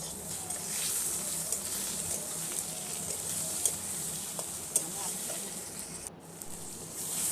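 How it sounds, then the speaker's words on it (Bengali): Potatoes frying in oil in a wok (kadai) during home cooking, a steady broad sizzle running throughout with small clicks of stirring and no talk. "একটু লাল লাল করে আলুটা ভেজে নিচ্ছি।"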